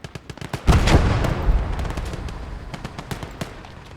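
In the World War II game Gates of Hell, a grenade blast booms close by, its rumble trailing off under a steady crackle of rifle and machine-gun fire.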